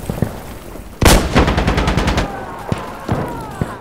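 Machine gun fire from an insurgent gunner in Insurgency Sandstorm: a loud sustained burst of rapid automatic shots for over a second, followed by a few scattered single shots and clinks.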